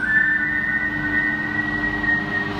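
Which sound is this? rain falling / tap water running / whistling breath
whistling breath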